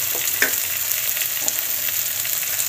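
Garlic and ginger paste with spices frying for a duck curry, a steady loud sizzle with occasional crackles and stirring scrapes, close up with no talk.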